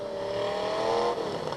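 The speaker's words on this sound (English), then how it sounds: "And just flooring it." A demolition derby car at a women's derby at Toyota Speedway, engine held wide open at full throttle, a loud continuous roar with harsh rasping overtones that holds steady, then dips slightly near the end.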